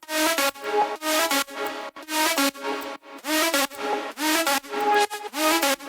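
Bright synth lead played without pitch bending, a busy, choppy run of short sharp notes in a steady pattern, upfront and unaccompanied by voices.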